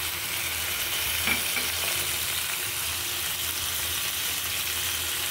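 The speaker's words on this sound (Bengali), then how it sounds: "পেঁয়াজটা ভাজা হয়ে গিয়েছে, দিয়ে দিচ্ছি পানি।" Water goes into a pan of fried onions, producing a steady, close, continuous sizzling hiss that holds evenly throughout with no voices.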